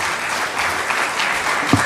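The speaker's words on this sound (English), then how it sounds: "A warm clap for His Excellency the Deputy President." Audience applause at a parliamentary group meeting, a steady wash of clapping from a large crowd, fairly loud and continuous with no talk over it.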